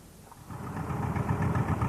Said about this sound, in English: 400 elderly but carefully restored tractors have been arriving in Gore today, and they'll be put through their paces over the weekend.